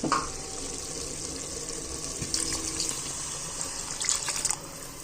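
Water pours steadily from a tap into a cooking pot for chicken biryani rice, a continuous close gushing and splashing stream that runs alone with no talk.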